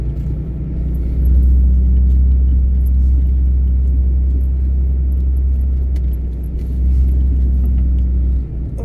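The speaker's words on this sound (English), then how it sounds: "We are in four-wheel drive because I would never make it up here in two-wheel drive in this stuff." A vehicle in four-wheel drive climbing a snowy mountain road in West Virginia, with a loud, steady low engine rumble and drivetrain drone, swelling slightly as it pulls, close and continuous.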